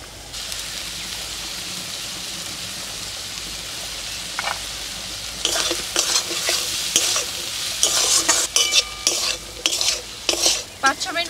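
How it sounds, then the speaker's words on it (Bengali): Washed shrimp frying in a pan with turmeric and green chili, a steady sizzle that swells as the shrimp go in, followed by scraping stirs and clinks of the spatula, close and without talk. "এবার আমি এর মধ্যে দিয়ে দিচ্ছি ধুয়ে রাখা চিংড়ি মাছ।"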